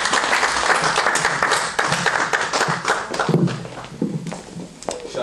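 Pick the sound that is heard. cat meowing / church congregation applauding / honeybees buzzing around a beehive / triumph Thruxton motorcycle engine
church congregation applauding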